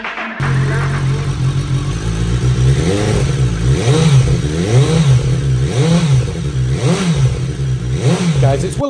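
A 2018 BMW S1000R sport motorcycle revving, its engine idling steadily and then rising and falling in repeated throttle blips, loud and close.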